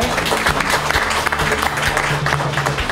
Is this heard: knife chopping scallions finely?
no